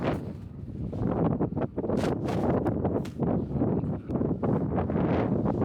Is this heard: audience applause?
no